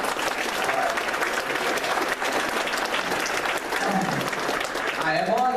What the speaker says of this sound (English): round of applause for this young man